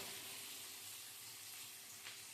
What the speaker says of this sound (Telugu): ఇదంతా బాగా వేగనిద్దామండి.